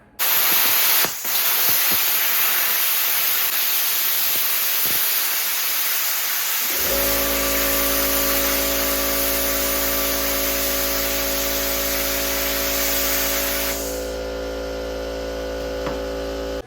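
A cheap BestArc plasma cutter slices a rusty steel bracket on a welding table in a home garage. There is a loud, steady hissing rush, and a low electrical hum joins partway through and continues to the end.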